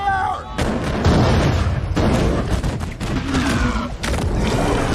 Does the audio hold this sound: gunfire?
yes